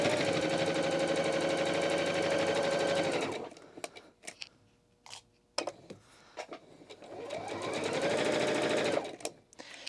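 A sewing machine stitches a back tack on a pillowcase, a loud whirring motor run that stops for a few clicks and handling noises, then runs again and winds down.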